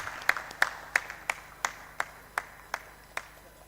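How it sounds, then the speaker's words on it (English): A few people clap at a tax conference, producing a sparse, evenly spaced series of sharp claps that ring out clearly against a quiet room. "Give him a round of applause, please."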